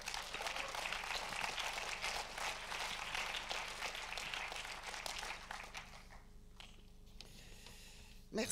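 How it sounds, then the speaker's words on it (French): An award ceremony audience applauds, a faint, broad wash of clapping that holds for several seconds and then tapers off into near quiet. "Sous vos applaudissements, merci."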